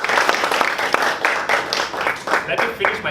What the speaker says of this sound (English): So can we please give a round of applause for Tan Chee Yong?